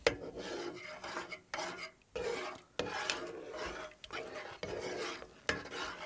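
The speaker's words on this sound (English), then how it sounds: "Stir it through." A utensil stirring cream through venison scallopini in a pan, giving repeated scraping, rasping strokes in uneven bursts with short pauses, close and fairly quiet.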